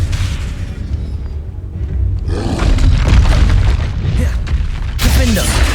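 Blasts from the Confringo fire spell in the game Hogwarts Legacy, with a loud booming burst partway through and a second sharp blast near the end over rumbling combat noise, while a voice talks.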